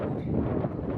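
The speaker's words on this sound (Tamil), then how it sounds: "காற்று ஓவராக அடிக்கிறதுனால" Strong sea wind gusts against the microphone at the entrance of a seaside Vinayagar temple at Kodiyakarai, where waves splash the doorway; a loud, steady broadband roar fills the whole moment with no pause.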